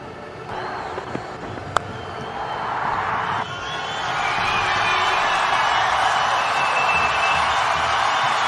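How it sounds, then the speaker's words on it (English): Sri Lankan fans in a cricket stadium crowd cheer and roar after a boundary, a broad steady swell that builds and grows louder and denser over several seconds, with a brief sharp whistle or shout early on. "Celebrations begin in the crowd for the Sri Lankan fans."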